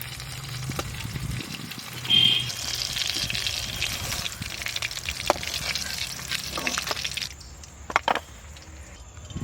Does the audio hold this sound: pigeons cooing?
no